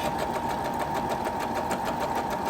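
Sewing machine running a twin needle, a fast, even mechanical whir with rapid regular stitching pulses, close and steady throughout.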